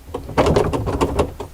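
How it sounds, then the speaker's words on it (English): A bathroom vanity drawer is tipped and slid onto its drawer glides, giving a short run of close wooden knocks and scraping clicks with a louder cluster in the middle, alone without talk. "Tip the drawer, aligning the slots in the drawer to the drawer glides"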